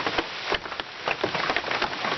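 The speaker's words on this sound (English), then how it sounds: "So I can sit out here in the rain." Steady rain patters on a new RV roof and porch, a dense, continuous hiss of drops close by with no voices.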